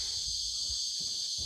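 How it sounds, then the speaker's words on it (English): Cicadas buzz in a continuous, steady high-pitched drone that stays even throughout, with faint low rumbles underneath. "Cicadas are getting after it."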